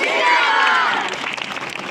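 A crowd of children and adults applauding and cheering at a Pakistan Independence Day celebration, a dense burst of clapping and shouts that fades slightly over two seconds.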